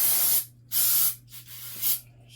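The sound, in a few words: spraying non-chlorinated brake cleaner on Glock pistol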